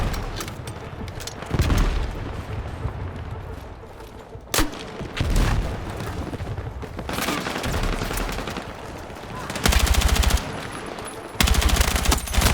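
Bursts of automatic gunfire and booms in the video game Battlefield 6, with rapid machine-gun fusillades loud and close, scattered single shots and distant explosions, plus faint voices in the background.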